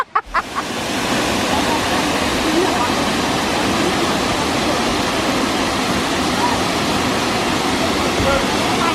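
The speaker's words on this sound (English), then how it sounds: "Look how you can go behind the waterfall" A few brief knocks at the start, then a constant loud roar of rushing water from a nearby waterfall filling the whole stretch.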